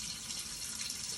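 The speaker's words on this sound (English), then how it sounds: "So you fill it, don't fill it above the 50 milliliters." Tap water pours steadily into a small water-testing sample bottle, a continuous close hiss of running liquid filling the container with no voices.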